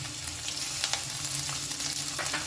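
Peanuts with chopped garlic and green chilli sizzle in hot oil in a pan, with occasional scraping stirs over the steady crackle.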